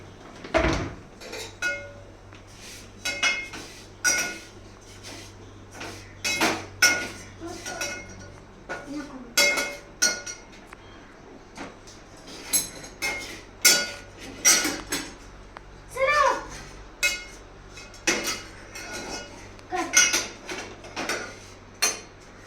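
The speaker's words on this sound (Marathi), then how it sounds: "हलवून दे प्रिशा, जळतील ते." Kadak poha, crisp flattened rice, stirred in a pan at home, heard as repeated close metallic scrapes and clanks of a spoon against the pan in an uneven rhythm, with occasional quiet background sounds.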